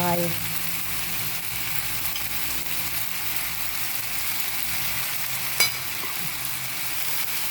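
Glass noodles with shrimp, minced pork and mushrooms stir-fry in a hot pan, giving a steady, even sizzle throughout with a brief scrape or clack of the spatula near the end.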